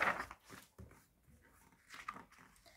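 Cartoon hound dog vocalizing in a Berenstain Bears cartoon, a few short whimpering yelps and snuffly barks, close and fairly quiet, with no talk.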